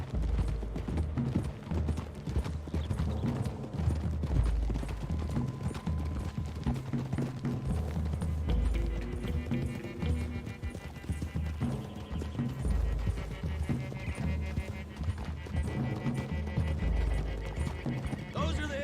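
Galloping horses drum out a steady clip-clop of hooves in a western video game, with a whinny at one point and rhythmic hoofbeats running throughout under speech.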